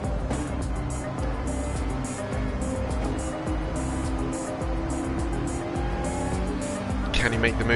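Mid-engined McLaren race car in a sim racing game at High Speed Ring in reverse, a steady loud engine drone with shifting pitch and tire noise throughout, a brief higher whine near the end.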